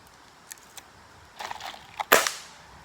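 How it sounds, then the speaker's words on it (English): A pellet gun fired at a shooting range: a couple of small clicks and handling sounds, then one sharp, loud crack that dies away quickly, close by and with no talking. "while I shoot the pellet gun"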